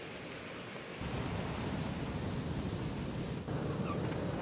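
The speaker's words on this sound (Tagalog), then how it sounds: "mataas at malakas ang alon sa mga baybayin" Strong, high waves on the shore of the coastal barangay of Caruan in Ilocos during heavy rain, a dense continuous roar of surf that swells louder after the first second and holds steady with no voices.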